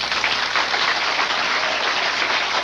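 Studio audience applause on a TV variety show, voting for a yodeling contestant: steady, dense clapping that fills the whole stretch at an even level, with no voices over it.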